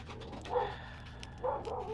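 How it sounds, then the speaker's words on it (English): A pet dog barks indoors near the front door of a home, two short barks about a second apart. They are moderately loud but slightly distant, over a quiet room hum. "Oh, my dog is barking."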